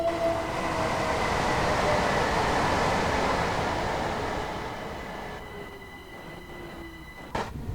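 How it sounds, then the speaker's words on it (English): Southern Class 377 electric trains arriving at Norbury in Train Sim World 2: a loud, steady rolling rumble with high wheel squeal that eases and fades as they slow, ending in a brief clunk. "speed down here to Norbury and watch both our trains arrive in."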